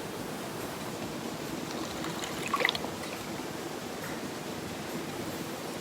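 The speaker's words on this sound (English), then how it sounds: "I'm going to add my water." Water pours steadily into pancake mix in a bowl, a faint, even wash of running-water noise with one brief splashy burst midway.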